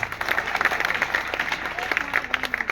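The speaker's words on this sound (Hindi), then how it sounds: "एक बार उनके लिए जबरदस्त तालियां" Applause from a crowd at an open meeting in Manesar, Gurgaon, heard as a burst of scattered hand clapping with a voice or crowd noise mixed in. It rises and falls unevenly, at moderate volume.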